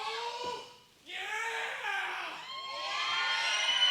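A wrestling crowd at an EPW event chants loudly and steadily in unison for chops, a continuous wall of voices that dips briefly and then swells again.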